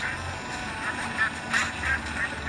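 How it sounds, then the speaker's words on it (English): A duck in the video game Legend of Brofist quacks repeatedly in short bursts, moderately loud, over a murmur of game background sound. "Stupid duck."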